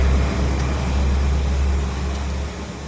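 A Foton CRDI diesel engine idling with a knocking fault, a steady low rumbling drone close by and running continuously for about three seconds.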